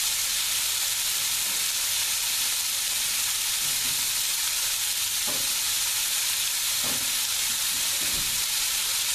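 Sliced onions sautéing in a pan for liver and onions, giving off a steady, loud sizzle and hiss with a few faint utensil knocks, no talking.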